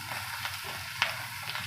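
Noodles are stirred in a frying pan, a quiet steady sizzle broken by a few soft scraping strokes and one sharper clink of the utensil against the pan.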